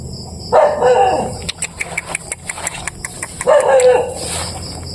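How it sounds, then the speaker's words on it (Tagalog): A dog barks in two loud bursts at night outside a house, with an engine rumbling underneath and a string of sharp clicks or taps between the barks. "May aso mga idol."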